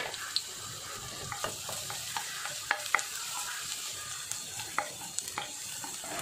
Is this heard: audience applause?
no